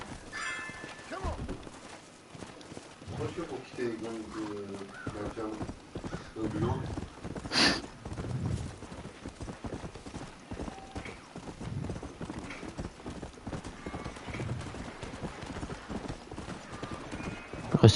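Rapid clip-clop of hooves trots along continuously with a brief whinny, mixed with video game effects from Red Dead Redemption and a person talking over it.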